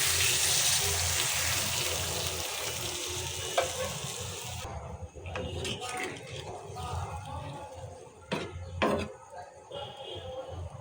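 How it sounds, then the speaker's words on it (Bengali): A pan of egg and potato curry with peas sizzles loudly and steadily; water is added partway through, and the bright hiss then cuts off into quieter bubbling with a few scraping stirs. "এখন দিয়ে দিচ্ছি পানি।"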